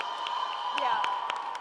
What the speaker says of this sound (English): Can we have a huge round of applause for the participants?